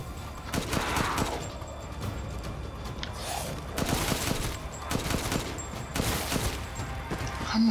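Enemy gunfire in Resident Evil Village, repeated sharp shots in irregular bursts over a dense background, fairly loud and close.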